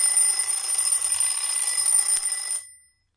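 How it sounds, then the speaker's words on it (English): A battery-powered TIN TIN alarm clock rings loudly and continuously in a steady, shrill electronic tone for about two and a half seconds, then cuts off into silence. "So let's try putting the alarm to this."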